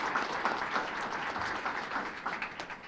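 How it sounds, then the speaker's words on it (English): An audience at a regional transit plan presentation breaks into applause, a full, even patter of many hands clapping that holds steady and fades slightly at the end. "Can we give them a big round of applause for their efforts?"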